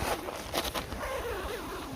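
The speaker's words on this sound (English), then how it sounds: "You can see why there's a big fuss over the YKK zippers, because they're such fine quality." A YKK zipper on a hammock's cold air barrier is pulled open outdoors after rain, giving close, fairly loud continuous rasping with a few brighter ticks near the start and a steady scratchy drag afterward.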